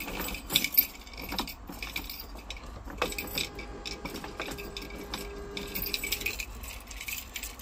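Keys for a newly redesigned IC bus jangle and clink in a few loose metallic rattles, close and clear, with a steady tone sounding in the background partway through.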